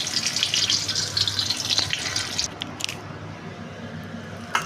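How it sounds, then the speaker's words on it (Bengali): Chopped coconut frying in hot oil in a wok, a loud bright sizzle that crackles for a couple of seconds, then drops to a quieter simmer with a few pops. "কড়াতে তেল গরম করতে দিলাম, এর মধ্যে নারকেল কুচানোটা ভাজবো।"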